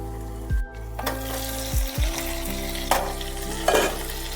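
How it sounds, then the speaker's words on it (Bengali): Potatoes frying in a pan for a traditional vegetarian chhana curry, a steady soft sizzle with a few sharp clanks of a spatula against the pan and occasional louder stirring scrapes, close and with no talking. "আলু বেশ ভালোভাবেই ভাজা হয়ে গেছে, অল্প একটু নরমও হয়ে গেছে"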